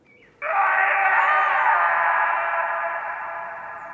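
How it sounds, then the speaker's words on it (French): A sudden, sustained high-pitched scream starts abruptly and holds for several seconds, slowly fading, loud and echoing. "un cri nous a glacé le sang"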